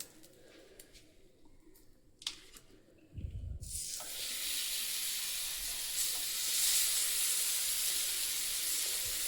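Pineapple slices frying in butter on a hot tawa give a steady, broad sizzle that starts abruptly after a few quiet seconds with a brief low thump, then holds loud and continuous to the end.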